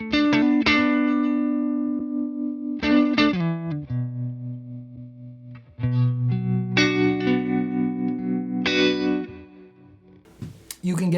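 An electric guitar runs through a Tone King Imperial tri-tube preamp with reverb and modulation, making lush ambient tones: strummed chords and arpeggiated notes that swell and ring out with long washy tails, played alone.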